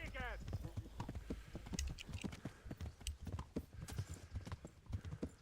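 Horse hooves clip-clop in a rapid galloping rhythm in the video game Kingdom Come: Deliverance, steady and close, with a short whinny near the start and someone talking over much of it.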